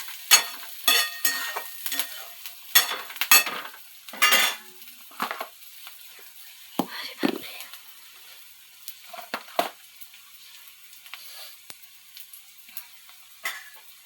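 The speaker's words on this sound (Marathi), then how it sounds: "कांदा भाजलाय चांगला जिरं वगैरे टाकलेलं आहे" Chopped onion and cumin frying in a pan for poha, with intermittent bursts of sizzling and a utensil stirring and scraping against the pan at close range, with quieter gaps between.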